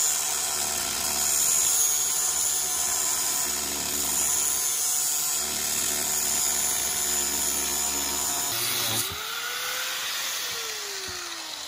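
A grinder cuts racing centrifugal clutch parts in half with a steady, harsh grinding whine for about eight seconds, then the tone drops and winds down as the cut ends.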